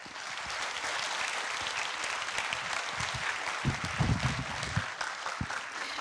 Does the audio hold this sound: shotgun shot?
no